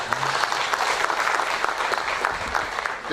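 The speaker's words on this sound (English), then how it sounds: "Another round of applause for the Commissioner General." Steady, dense applause from a sizeable audience fills the whole stretch, loud and even without pause.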